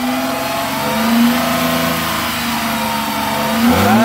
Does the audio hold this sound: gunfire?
no